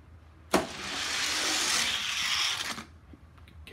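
Hot Wheels die-cast toy cars, including a small Datsun truck, racing down a plastic track: a sharp click at the start, then a bright rolling whir lasting about two seconds before stopping with a faint clatter.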